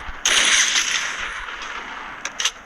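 Gunfire in the Free Fire video game: one loud sharp blast sets off a dense crackle that fades slowly, then two quick shots sound near the end, with no talk.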